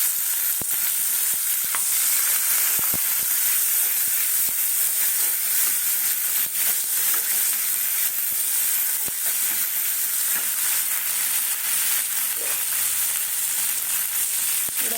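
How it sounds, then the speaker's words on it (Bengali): Onion and tomato frying in a little oil give a steady, close sizzle that runs unbroken throughout, with faint clicks and stirring scrapes scattered through it and no voices. "আর পেঁয়াজ আর টমেটোটা দিয়ে দিলাম একটু তেল দেবে সামান্য তেল দেবে"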